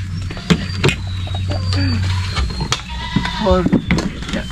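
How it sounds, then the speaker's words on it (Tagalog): A carabao (water buffalo) on a farm gives a low, drawn-out call lasting about two seconds, with higher bleating cries and scattered knocks around it and voices nearby. "May kalabaw doon."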